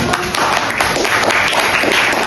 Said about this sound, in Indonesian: Boleh kasih tepuk tangannya.